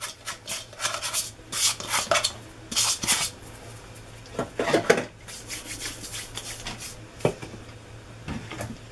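Flour, suet, lemon zest and sugar being mixed by hand in a bowl, giving soft, irregular rubbing and rasping sounds in short bursts, close and fairly quiet, with no talking.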